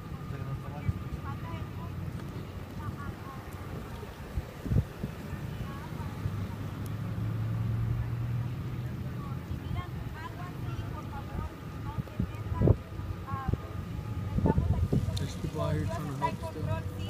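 A car pushes through deep Hurricane Harvey floodwater on a Houston street, its low engine hum and water wash faint and steady beneath someone talking close by.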